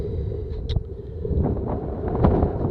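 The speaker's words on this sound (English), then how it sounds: "The winds right now are, pretty strong." Strong, gusty wind of about 15 knots gusting to 30 buffets the microphone at a kite launch site during a high-wind test of a 6-meter Gin Shaman 3 kite, a steady roaring rush with louder surges and no talking.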